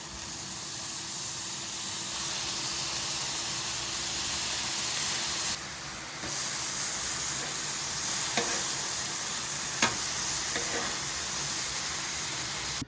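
Carne asada steak sears on a hot griddle with a steady, even sizzle all the way through, and a few sharp scraping or tapping clicks near the end.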